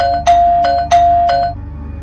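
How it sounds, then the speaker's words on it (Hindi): A doorbell sounds alone at night: sharp electronic ding-dong chimes strike four times in quick succession, loud and close, each ringing tone decaying over a low steady hum. "4 बार डोरबेल की आवाज सुनकर"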